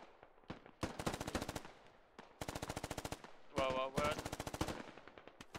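Repeated bursts of rapid automatic gunfire in the military game Squad, sharp and close, in several long strings separated by short pauses, with a brief spoken word and a radio-like tone mixed in.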